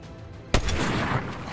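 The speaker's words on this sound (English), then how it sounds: "This is where we realized we were being sniped from both ends." A single sharp sniper shot in a video game cracks out close and loud, followed by a rumbling echo and steady background noise.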